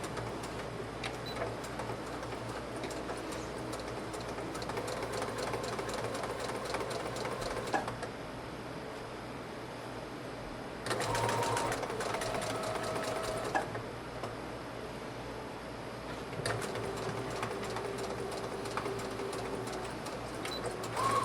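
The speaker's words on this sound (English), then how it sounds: "I'm going to straight stitch as closely as I can right along that fold to secure that lace in place." A sewing machine runs a straight stitch along a fold to hold lace in place, whirring steadily in close, continuous bursts broken by short pauses, quiet and alone.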